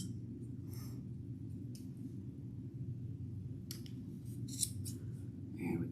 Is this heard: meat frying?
no